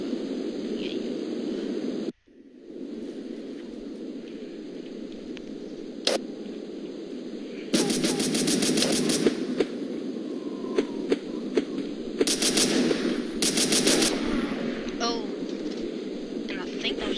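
Gunfire in the video game BeGone comes as two rapid bursts of quick, evenly spaced shots over a steady background hum, with a person talking during parts of the clip.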